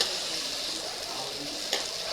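Chicken fried rice frying in a pan with green chillies, a steady soft sizzle and hiss with light stirring and one brief scrape of the spatula near the end.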